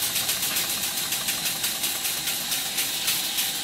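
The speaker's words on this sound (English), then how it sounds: "I'm purposely running this engine at a very high speed to make sure that it doesn't break," A model steam engine from around 1896 runs at very high speed with its piston rod gland blowing badly, producing rapid, even chuffs over a constant loud hiss, close and alone with no voices.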